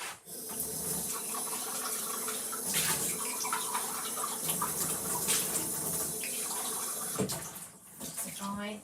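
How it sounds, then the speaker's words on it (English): Water runs from a tap into a glass in a kitchen while making a cake, a steady rushing splash that continues throughout with a voice talking over it. "So I'm just getting myself some water so I can sort this cake out."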